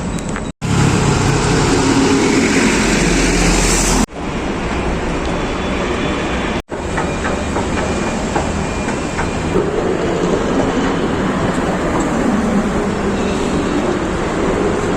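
A metro train at a metro station makes a loud, continuous rumble with faint rhythmic clacking, broken by a couple of abrupt cuts, and no voices are heard.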